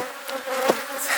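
Bees buzzing near hives kept in extreme conditions in Alentejo, Portugal, a steady close drone with one brief louder pass, no talk.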